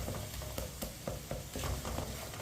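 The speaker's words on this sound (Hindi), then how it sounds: "1-2 मिनट के लिए इसी तरह चम्मच चला लेंगे" A spoon stirs tomatoes in a pan for besan bhindi, giving a steady soft sizzle with a series of light scraping clicks and knocks at irregular intervals, close and fairly quiet with no speech.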